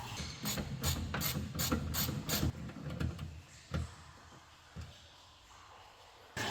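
A ratchet clicks in quick repeated bursts while undoing a bolt inside the door of a Mercedes-Benz B-Class W245, close and fairly quiet, followed by a few scattered metallic knocks and rattles.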